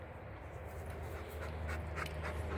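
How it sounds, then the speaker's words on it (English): A Bernedoodle, a Bernese Mountain Dog and poodle mix, pants close by in quick, continuous breaths, with a faint whimper here and there and no talking. "here's our dog. See, he's a Bernese Mountain Dog mix."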